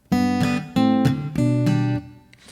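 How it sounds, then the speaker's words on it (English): Acoustic guitar chords from a song plucked together, each followed by a quick flicked strum, three times in a row, close and ringing before fading out. "So you pluck together and then a little flick."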